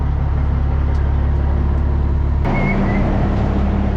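A combine unloads corn into a truck in the field as engines run, giving a steady loud low diesel drone throughout with a brief click partway through and no voices.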